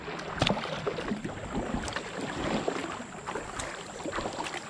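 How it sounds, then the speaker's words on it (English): A kayak being paddled up small rapids on a fast-flowing river gives rushing, splashing water with irregular paddle strokes, close and fairly steady, mixed with light wind on the microphone. "You got to paddle up these little bit of rapids."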